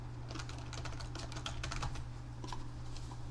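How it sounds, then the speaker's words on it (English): Fingers tap steadily on a computer keyboard while a first and last name are typed into a document header, a quick run of light clicks over a constant low hum. "Type your first name and last name"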